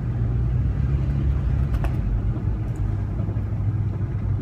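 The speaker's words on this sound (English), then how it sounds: "I love driving my windows down." Wind buffeting and road rumble inside a moving car with the windows down, a loud, steady low roar with no talking.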